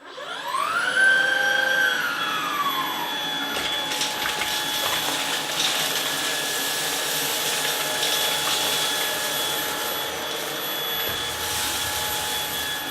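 A Shark DuoClean IF200UK cordless vacuum cleaner, on its hard floor setting, whirs up to speed and then runs with a steady, loud motor whine for about thirteen seconds, close by with no talk.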